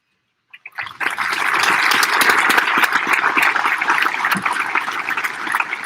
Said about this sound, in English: I would now ask those teachers to please stand in order to receive our applause.